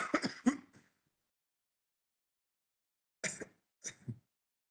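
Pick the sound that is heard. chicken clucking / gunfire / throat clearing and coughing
throat clearing and coughing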